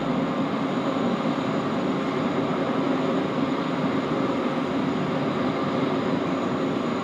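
A jet aircraft arrived from Auckland taxis slowly at Sydney Airport, giving a steady, unbroken engine rumble heard from a distance with no voices.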